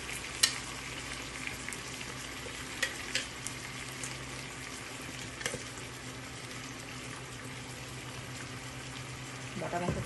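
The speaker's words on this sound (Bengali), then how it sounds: "আর আলু ঠালু সব কিছু দিয়ে আমি এটা ভেজে নিচ্ছি ভালো করে।" Meat and potatoes frying in a pan with spices, a steady low sizzle running throughout with a few sharp clinks and stirring scrapes, fairly faint and close, no talk.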